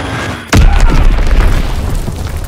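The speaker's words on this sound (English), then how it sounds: "Enemy bomb incoming. Get to cover." A sudden heavy bomb blast in the Call of Duty WW2 multiplayer game hits loud and close, then rolls into a long rumbling tail of debris and noise that slowly fades.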